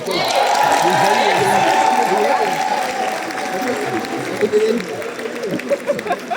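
Steady audience applause after a film screening in Brussels, a dense wash of clapping that stays loud, then thins toward the end as scattered voices come through.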